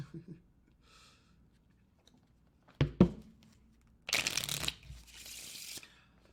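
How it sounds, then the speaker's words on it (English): Playing cards are riffled and bridged close by, a crisp burst of fluttering after a few sharp taps, otherwise quiet. "I shuffle cards to keep my hands busy, so that's what that noise is."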